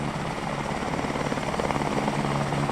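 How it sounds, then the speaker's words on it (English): A PZL W-3RM Anaconda search and rescue helicopter of the Polish Navy drones steadily with rotor thrum at an airshow in Gdynia, loud and continuous throughout with no voices. "a brief search and rescue demonstration from this PZL W3RM Anaconda."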